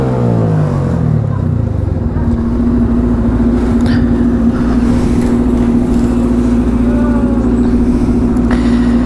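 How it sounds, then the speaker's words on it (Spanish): A Benelli TNT 135 motorcycle fitted with a new muffler revs up close by, then settles into a loud, steady engine drone with a throaty exhaust note that holds for several seconds. "¡Ese es el motor, manín!"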